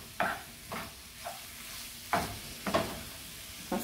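Minced meat and onion stirred in a frying pan, a spoon or spatula scraping in several distinct strokes with a soft sizzle underneath, close and moderately quiet.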